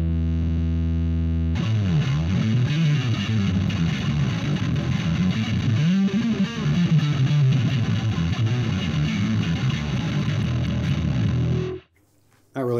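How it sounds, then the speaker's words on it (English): Bass guitar run through a Teisco distortion pedal, a thick, loud fuzzy tone with sustained low notes and sliding pitch that plays steadily for about ten seconds before cutting out abruptly near the end. "That's something you can do with a lot of distortion."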